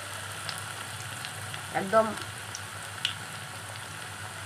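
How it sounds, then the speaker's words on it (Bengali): Chicken pakora frying in hot oil, a soft continuous sizzle with a brief louder bubbling burst as pieces go in, close but quiet, with a short spoken word over it. "এবারে আমি এটাকে তেলে ভাজবো।"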